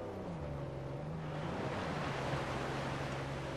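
A waterfall in Uncharted 4: A Thief's End rushes as a soft, steady wash of falling water, continuous broadband noise at low volume with a faint low hum underneath.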